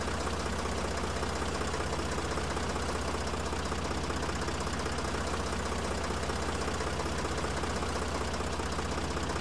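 A tractor engine idles in the Professional Farmer 2014 farming game, a loud, steady, even drone with a fine knocking rumble that holds unchanged throughout, with no talk.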